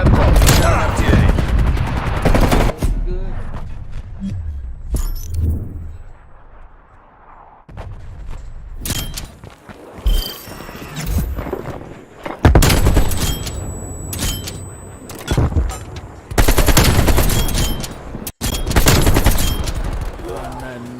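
Gunfire in Saints Row while new guns are being tried out: loud, dense bursts of shots and automatic fire in clustered volleys with short gaps, mixed with game noise and occasional talk.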